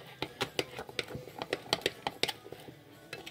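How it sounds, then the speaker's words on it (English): Quick, uneven clicks and taps of a spoon stirring salted caramel and almond ice cream cake batter against a bowl, close by, with no talking. "just gotta stir and stir"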